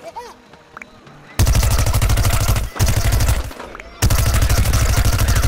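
A Gatling gun in Plants vs Zombies: Garden Warfare unloads in long, loud, rapid-fire bursts, rattling continuously after a quieter start, cutting off briefly twice before spinning back up.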